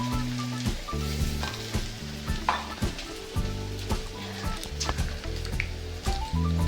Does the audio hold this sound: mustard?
yes